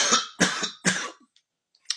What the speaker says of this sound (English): I got a bad cough today